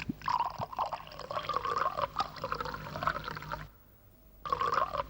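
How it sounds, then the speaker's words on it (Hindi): Water poured into liquor, a soft trickling and splashing stream that runs steadily for a few seconds, pauses briefly, then resumes, heard faint and close. "गुरु, पानी और डालू के बस।"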